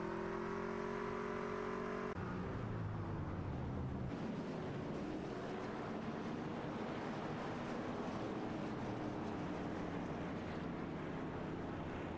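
Race cars on a track, an engine note rising and shifting with revving and acceleration, then a continuous loud roar of cars passing with wind noise, no talk over it.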